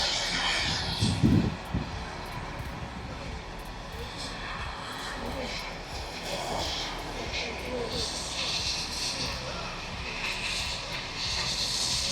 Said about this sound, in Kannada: ಇದೊಂದು ಚಿಕ್ಕ ಏರೋಪ್ಲೇನ್ ಇದು, ಇವಾಗ ಇದು ಟೇಕ್ ಆಫ್ ಆಗ್ತಾ ಇದೆ.